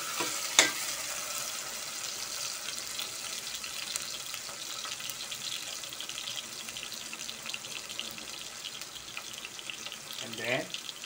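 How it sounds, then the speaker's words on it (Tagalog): Ingredients and spices for chicken tinola with coconut milk get stirred in a very hot cooking pot, a continuous soft scraping and sizzling texture lasting throughout with a few louder clanks, close by and without talk. "Haluin lang to ng haluin natin tong ating mga sahog o spices natin."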